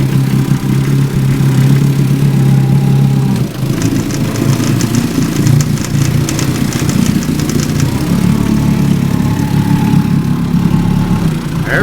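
A 1963 18 HP Evinrude Fastwin outboard boat motor idles steadily and loudly throughout, with a low uneven putter and a faint rise in pitch partway through, no voices.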